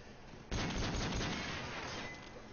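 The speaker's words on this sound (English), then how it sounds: "Bit of a gunfire here." Rapid gunfire in a Call of Duty Modern Warfare 3 Search and Destroy match, a sudden loud burst of dense shots that continues steadily, then thins toward the end.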